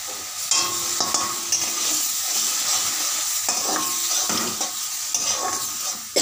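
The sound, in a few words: spice paste frying in a pan as tomato paste is added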